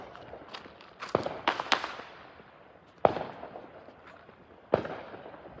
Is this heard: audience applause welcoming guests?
no